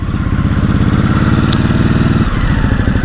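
A motorcycle engine runs close by, loud and steady with a throbbing, even pulse throughout and no voices over it.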